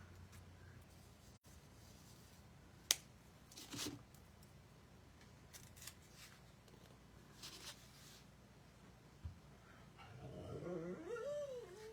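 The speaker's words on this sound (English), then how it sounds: "Oh, there's my doggy again." A dog whimpers and growls softly at a distance during a thread-spool snowman craft session, with scattered faint yips and thumps over quiet room noise and a louder whining stretch near the end.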